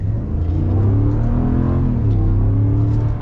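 A deep, rumbling 5.7 Hemi V8 engine revs up as a 2023 Ram 1500 pickup accelerates, the low growl rising steadily in pitch, loud and close, with snow shifting in the bed.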